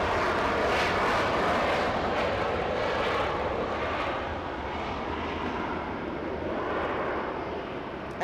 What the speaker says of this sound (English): Air France coming in.